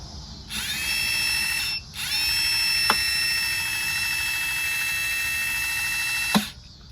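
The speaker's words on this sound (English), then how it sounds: "So yeah, the motor is connected the right way." An electric parking brake caliper motor from a Lexus RX runs on the bench, a close, steady high-pitched whine that stops briefly and restarts, with a couple of sharp clicks and no talk.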